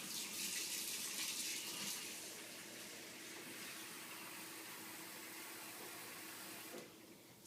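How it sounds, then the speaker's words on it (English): Tap water pours steadily into a bowl, a close, continuous rushing splash that softens slightly partway through and stops near the end, with no one talking. "I'll do step 2 by filling up this bowl with water."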